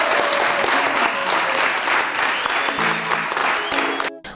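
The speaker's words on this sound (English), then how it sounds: "Clap for him again." Loud audience applause for a young Zambian musician, dense steady clapping filling the space with a few voices mixed in, cutting off abruptly at the end.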